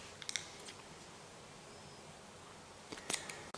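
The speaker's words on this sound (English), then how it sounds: "I'll chain one, then I'll cut this yarn." Scissors snipping crochet yarn: a few faint, close clicks of the blades near the start and a sharper double cut near the end, over a steady hiss of background noise.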